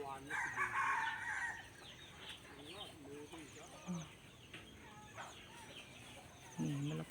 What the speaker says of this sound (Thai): ได้ยินเสียงไก่ไหม